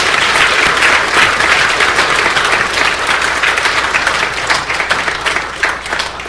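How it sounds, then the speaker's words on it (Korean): A church congregation applauding after a choir's grand performance, a full, sustained round of loud clapping that gradually thins toward the end, with no talking. "박수 한 번 더 받읍시다."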